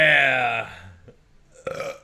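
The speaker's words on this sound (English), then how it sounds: "That was a good burp." A long, loud human burp rumbles and fades out, followed after a short pause by a second, briefer belch-like sound with a voice; a casual livestream setting.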